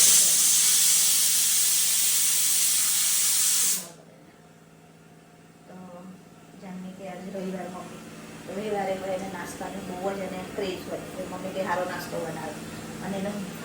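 A pressure cooker boiling potatoes lets out a loud, continuous hiss of steam for several seconds, then it cuts off abruptly and a person starts talking.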